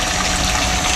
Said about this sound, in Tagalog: Ito yung tumatapon na tubig.